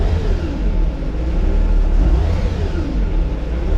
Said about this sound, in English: The test I use, because it's a gas engine, is if I can blip it and not stall it.